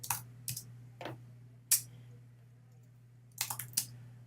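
Computer keyboard keys clatter in a few short, scattered bursts of quick clicks, separated by pauses, over a steady low electrical hum.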